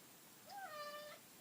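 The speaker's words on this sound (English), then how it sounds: "that's this cat at my foot that won't stop crying for attention" A cat at someone's feet in an indoor media room gives one drawn-out, rising-then-falling meow, fairly faint and close by, with no talking over it.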